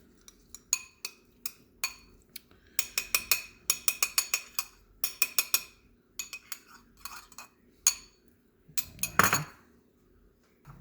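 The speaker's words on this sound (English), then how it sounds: "So I'll just mix that in together with the garlic and parsley." A spoon mixes olive oil with garlic and parsley, tapping and clinking against the dish in irregular bursts of quick strikes, close and crisp, ending in a brief scraping stir.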